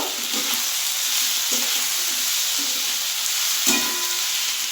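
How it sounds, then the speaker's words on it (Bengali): Green chilli paste and turmeric sautéing in a pan, a steady close sizzle with occasional soft stirring scrapes and a few small knocks of the spoon. "এটা দিয়ে একটু কষিয়ে নেব"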